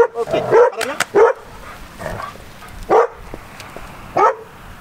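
Prada the dog barks in short, separate yips and woofs, about five spaced bursts, close by and fairly loud, with quiet gaps between them.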